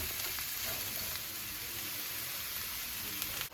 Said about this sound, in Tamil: இந்த கேபேஜ் வந்து கொஞ்சம் நேரம் குக் ஆகட்டும்